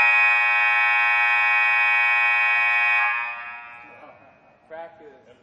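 A loud, sustained electronic gymnasium scoreboard buzzer blares for about three seconds, then cuts off, leaving faint background noise and a brief muffled sound.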